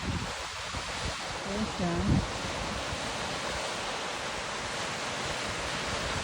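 Steady broadband rush of a small waterfall just before Helgafoss in Iceland, loud and constant throughout, with a brief voice speaking near the start.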